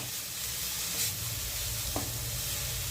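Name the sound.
stirring spiced fried radish in a pan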